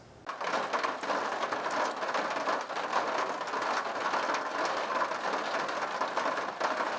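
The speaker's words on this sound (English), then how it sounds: "now we're having a freak thunderstorm. Just all of a sudden the skies opened up and it started dumping" A sudden thunderstorm dumps heavy rain, a dense, steady hiss and patter that starts abruptly and stays loud and even for several seconds, with no talking.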